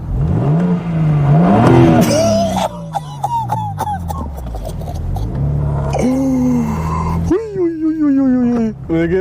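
A Porsche sports car engine revs repeatedly, rising and falling in pitch with sharp surges and pauses, close and loud, with speech mixed in.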